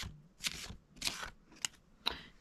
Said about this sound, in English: I think it's time now to keep shuffling